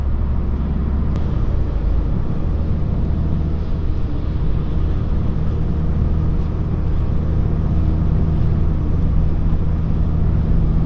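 Inside a Citroen C-Elysee 1.6 HDi diesel cruising at about 120 km/h on a highway, a loud steady cabin drone of road and engine noise holds constant throughout.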